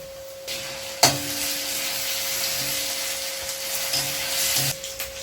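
Ginger garlic paste frying in a pan for duck gravy, giving a steady broadband sizzle throughout with a few light clinks and stirring knocks, close and moderately loud, with no talk.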